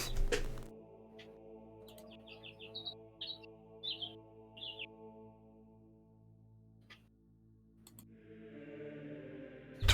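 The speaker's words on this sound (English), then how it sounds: "I hear some very pleasant birds all of a sudden." Pleasant birdsong of short chirping phrases repeats several times in the background behind a steady droning hum, with a brief louder hiss near the end.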